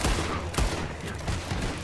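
Rapid gunfire in the video game Red Dead Redemption 2, several sharp shots in quick succession over a short burst, loud and close with no talking.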